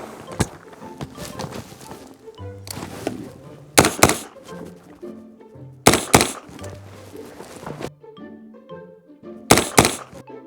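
Inter Ordnance AR-9 carbine in 9x21 pistol calibre fires several sharp, loud shots, some in quick pairs, separated by quieter pauses with faint background noise.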